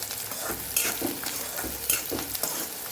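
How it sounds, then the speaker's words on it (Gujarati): Onions sautéing in a pan until soft, a steady close sizzle broken by several spoon-stirring scrapes at irregular intervals, with no talking. "ડુંગળીનો થોડો કલર બદલાય ત્યાં સુધી આપણે એને સાતડવાની છે"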